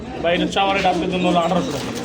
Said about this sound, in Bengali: রানিং পেয়ার এটা রানিং পেয়ার দেশি বোম্বাই কবুতর